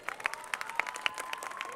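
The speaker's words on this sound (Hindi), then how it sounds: "मैं चाहूंगा कि आप सब लोग मैम के लिए एक बार जोरदार तालियां बजा दें।" A hall audience clapping hard for a record holder at a book of records ceremony in India: sustained crowd applause with distinct nearby claps standing out over a steady tone in the room.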